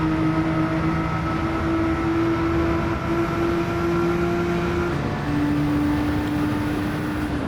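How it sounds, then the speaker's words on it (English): Racing car engine in Gran Turismo 7 drones loudly and steadily at high output, a strong sustained tone holding pitch, dipping briefly around five seconds as the driver shifts or lifts, then settling again, with no talk. "listen to the car. Pay attention to the output of the car."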